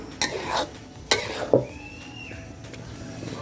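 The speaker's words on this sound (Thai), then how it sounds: "คนให้ถึงก้นไปเลยนะคะ" A spoon scraping and knocking against a pot while stirring thick starch sauce, three or four distinct clinks over a quiet background.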